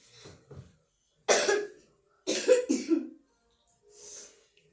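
Someone coughs in several harsh bursts, close by, separated by short pauses and a faint breath.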